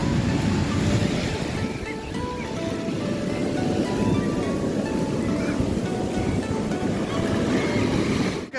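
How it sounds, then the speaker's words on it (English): Big ocean waves crash and wash on a beach in a continuous loud roar, with wind buffeting the microphone throughout. "look how crazy big is this wave right there"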